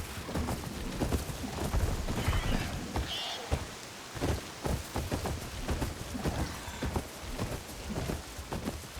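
Steady rain pours down in the game Horizon Forbidden West, a dense, constant hiss of drops with occasional heavier splashes and low rumbles, with no voices.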